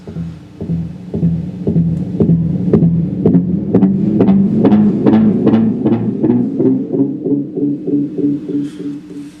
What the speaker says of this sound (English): And it'll go into self-oscillation